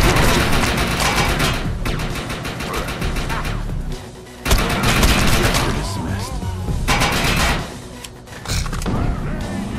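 Rapid gunfire and grenade blasts in the shooter game Defiance 2050: dense, loud overlapping bursts of shots and booms, nearly continuous, with brief lulls between volleys.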